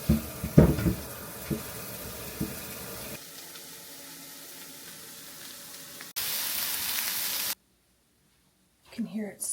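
Scrambled eggs frying in a pan give off a steady sizzle, loudest in a bright hissing burst near the end, with kitchen clatter and a voice talking at the start.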